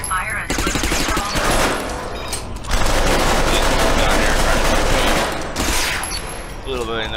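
Sustained automatic gunfire crackles through the video game Interstellar Marines in a training area, with dense, loud bursts that run almost continuously and only brief pauses between volleys.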